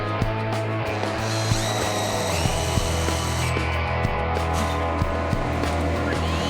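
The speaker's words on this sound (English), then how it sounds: "I countersink the back side of the holes to connect the connecting arm." A power drill countersinks holes in wood for a deer wall pedestal mount, a steady close motor whine with a regular series of short ticking clicks running throughout.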